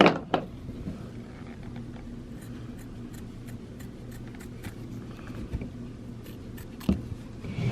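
Scissors trimming a fabric appliqué on a kids' T-shirt, several quiet close snips at irregular intervals over a low steady background hum.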